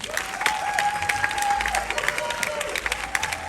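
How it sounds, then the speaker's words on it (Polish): A crowd applauds Nikodem Rozbicki at a fan event, brisk clapping with a sustained tonal hum running beneath and faint voices mixed in, moderately loud. "wielkie brawa, Nikodem Rozbicki"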